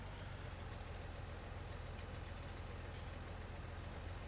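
An older Massey Ferguson farm tractor idles steadily on a farm, a low continuous diesel rumble heard faintly at a distance, with no voices over it.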